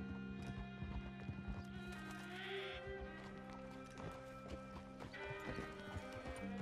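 Horse hooves clip-clop steadily in Red Dead Redemption 2, with a horse whinnying partway through, set against an outdoor ambient bed of birds and wilderness in bear country; no one talks.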